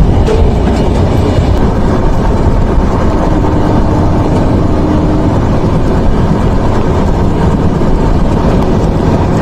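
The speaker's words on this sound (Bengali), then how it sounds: "আশা করা যায় 100 হয়ে যাবে আজকে জাহানাবাদ এক্সপ্রেস ট্রেনের গতি" Jahanabad Express train running at speed on a new rail line near the Titra rail bridge, a loud continuous rumble and rattle of wheels on track holding steady throughout with no pauses.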